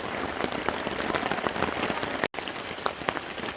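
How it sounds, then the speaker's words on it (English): Steady heavy rain pours onto a camping tarp at a Florida family campsite, a dense continuous patter with sharper individual drops standing out, unbroken except for one momentary gap. "Still raining"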